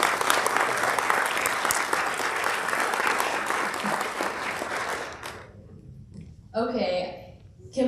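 An audience at the 2023 AISES Leadership event in Tulsa, Oklahoma gives sustained applause for the second chief, dense clapping that fades out after about five seconds, followed by a voice speaking.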